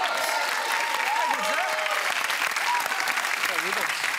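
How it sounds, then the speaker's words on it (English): Studio audience applause on a Family Feud game show, steady broad clapping from the crowd held at an even level throughout, with faint tonal studio sounds mixed underneath. "Round of applause."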